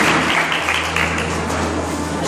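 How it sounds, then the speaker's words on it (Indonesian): A church congregation applauds for God in dense, steady clapping that fills the space, with a low hum running underneath throughout. "Beri tepuk tangan untuk Tuhan"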